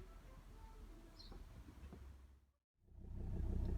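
Volvo XC60 D5 diesel engine idling to warm the oil, a low, steady rumble that dips into a brief silence before returning louder.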